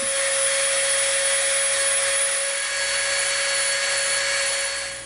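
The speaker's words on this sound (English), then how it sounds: "we can clean up with the Dremel." Dremel rotary tool grinding and cleaning up EVA foam edges for a chainsword prop, a steady high-pitched whine held close and loud throughout, easing off at the very end.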